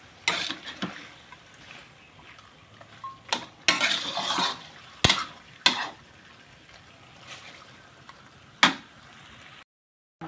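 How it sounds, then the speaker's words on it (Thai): Catfish bones stir-fried with curry paste in a pan, irregular loud scrapes and clanks of a utensil against metal over a soft sizzle, close up with no talking. "รอผัด กระดูกกับพริกแกงให้หอมก่อนนะคะเพื่อนๆค่ะ"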